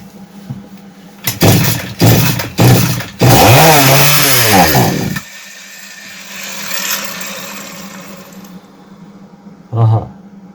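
A Goodluck 4500M gasoline chainsaw with a suspected faulty carburetor sputters through several short pull-start bursts, briefly revs loud and close, then dies, with someone talking in between and one last short burst near the end.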